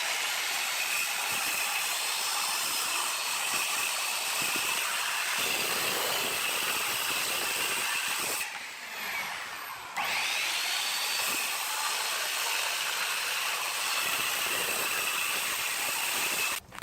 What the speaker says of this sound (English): I'm going to take a circular saw and I'm going to plunge cut my line there.